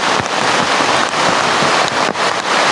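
Heavy downpour pounding steadily, a dense loud hiss of rain with occasional wind buffeting the microphone, continuous and close throughout.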